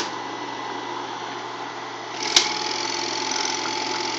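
Bell & Howell Autoload 363 8mm film projector running in reverse, a steady noisy mechanical whir with a faint rattle, near and continuous, with a brief sharp click partway through.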